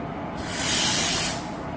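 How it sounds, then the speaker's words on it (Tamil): Air brakes on the Amrita Express hiss in a single loud burst of about a second as the train stands at a station, rising and fading over a low background rumble. "ராமேஸ்வரம் ரயில்வே ஸ்டேஷனில் இருந்து திருவனந்தபுரம் வரைக்கும் போகக்கூடிய அமிர்தா எக்ஸ்பிரஸை புல் பண்ணுறது பார"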